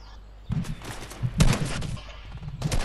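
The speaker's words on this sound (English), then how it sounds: "Oh, we're getting shot." Gunfire in a shooter video game, sharp bursts of shots starting after a quiet moment, with a loud cluster in the middle and another burst near the end.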